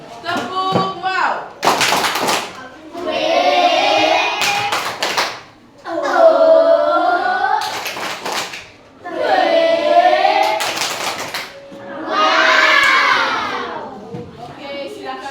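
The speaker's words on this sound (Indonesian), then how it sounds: "Kita berikan tepuk wow untuk kelompok biru." A class group performs the "tepuk wow" clapping chant for the blue group: several sharp bursts of claps alternate with loud chanted group voices and children shouting, repeating in rhythmic cycles over fifteen seconds.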